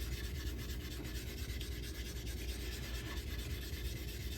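A JA Henckels straight razor is honed on a convex coticule slurry stone, giving a soft, continuous wet rubbing and scraping with faint rhythmic strokes, quiet and close, with no talking.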